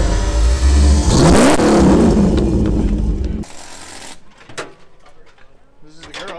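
The Ford 5-liter V8 in a 1991 Nissan 240sx revs hard and loud at close range with a rising, rough snarl, then cuts off abruptly and leaves quieter ambient noise with a few sharp knocks.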